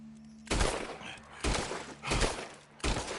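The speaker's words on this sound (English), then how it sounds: "The gunshots are coming from that barn." Four loud gunshots in the video game Red Dead Redemption 2 crack in succession from a barn, spaced unevenly about a second apart, each with a sharp boom and lingering echo; no talking.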